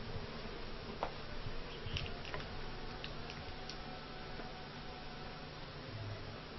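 Honey bees hum faintly around a wooden beehive box while a colony is being merged. The buzzing is low and steady, with scattered light ticks and taps and no talking.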